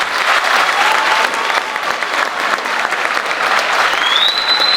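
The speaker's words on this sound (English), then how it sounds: "let's give a round of applause for our drill team" A crowd at an Army ceremony applauds the drill team, sustained loud clapping from many hands filling the space steadily, with a few faint whistles near the end.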